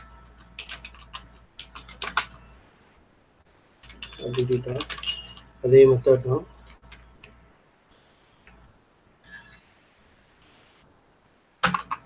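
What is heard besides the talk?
typing on a computer keyboard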